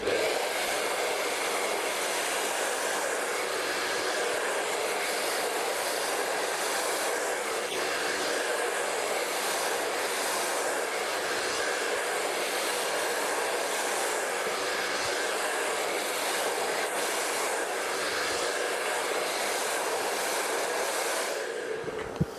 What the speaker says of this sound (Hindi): करली हेयर पे आपको ड्रायर करना है, स्ट्रेट ड्रायर करना है